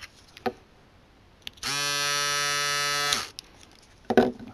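An electric shaver switches on with a button press and buzzes with a steady, bright hum for under two seconds before cutting off, framed by soft handling clicks.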